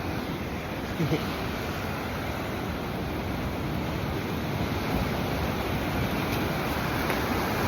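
Ocean surf washes in a steady, dense roar as someone walks out into the water. Wind buffets the microphone over the continuous wave noise.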